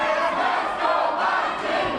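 Crowd cheering and shouting at a professional wrestling match, a loud, sustained roar of many voices filling the venue without pause.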